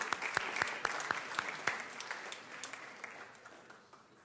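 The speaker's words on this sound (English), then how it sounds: "a round of applause, please, thanking our Senate fellows." Applause fills the state Senate chamber during a floor session honoring Senate fellows, with sharp individual claps standing out near the start before the clapping gradually thins and fades.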